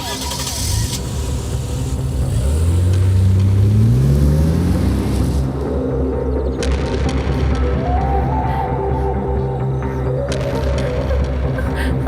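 A car pulls away as its engine revs up and climbs steadily in pitch, then settles into a running drone, fairly loud and close, with voices and other background noise mixed in.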